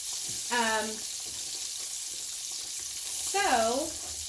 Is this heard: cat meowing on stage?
no